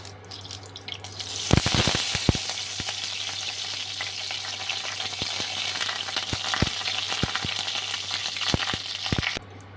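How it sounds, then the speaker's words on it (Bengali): Curry leaves drop into about 50 grams of hot oil in a cooking pan for pepper chicken, bursting into loud crackling and spitting, followed by a steady sizzle with scattered pops. "তেলটা গরম হয়ে গেছে আমি কিছু কারি পাতা ফোড়নে দিয়ে দিচ্ছি"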